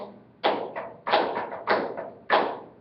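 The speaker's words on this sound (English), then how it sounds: "just bang on the table." Hands banging on a classroom table in a rhythmic beat, a series of loud, even thumps spaced about half a second apart, each with a short decaying rumble, heard alone without talk.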